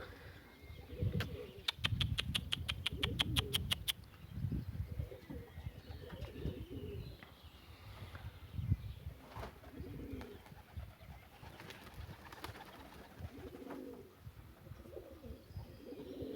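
Pigeons, among them English tumbler pigeons, coo repeatedly in soft low rolling calls, several birds overlapping near and farther off, with a brief burst of flapping wings and faint ambient noise around them.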